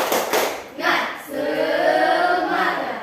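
Classroom pupils in Indonesia do a rhythmic spirit clap, a quick burst of hand claps up close, followed by voices chanting together.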